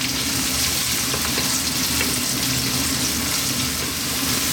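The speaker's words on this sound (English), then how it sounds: "now we're going to add the onion and we're going to cook the onion for about 2 to 3 minutes" Onion frying in a pan for chana masala, a steady loud sizzle with a dense hiss that holds evenly throughout, no voices.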